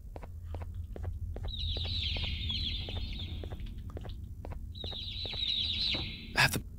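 Chicken clucking in the video game Garten of Banban 3: two drawn-out squawking calls over a steady low hum and regular soft thumps like footsteps, ending with a sharp bright burst.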